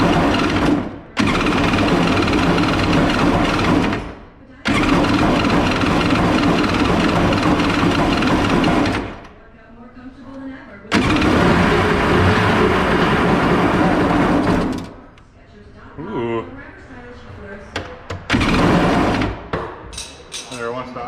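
Mini jet boat engine starting and running with choke, a loud close rough mechanical roar in long bursts that cut out and restart, with uneven sputtering between runs.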